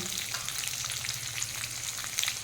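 Ginger, garlic, onion and capsicum fry in oil for chilli chicken, giving a dense, even sizzle that stays close throughout.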